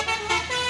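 Melodic telolet air horn on a Kalimantan truck, several bright tonal notes sounding in quick succession over steady traffic rumble, loud and close.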